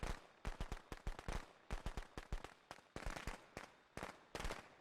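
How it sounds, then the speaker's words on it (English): Rapid volleys of firecrackers popping in Friday the 13th: The Game, sharp cracks clustered in irregular bursts with short gaps between them, loud and close throughout. "details of the firecrackers going on"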